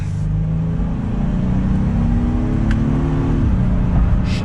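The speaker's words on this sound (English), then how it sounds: "We'll do one more acceleration" A 2022 Honda Passport Trailsport accelerates under paddle-shift control, its engine note rising steadily in pitch, then dropping briefly at an upshift near the end; a continuous, fairly loud drone heard from inside the cabin with road noise beneath.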